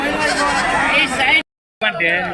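Goats bleating at a busy goat market, wavering calls layered over people talking nearby, broken by a brief gap of silence before the bleating resumes.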